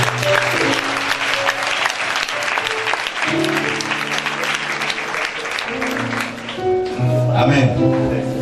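Church congregation at a thanksgiving celebration applauding steadily, a dense, sustained wash of clapping from many hands with sung or spoken voices and musical tones running over it.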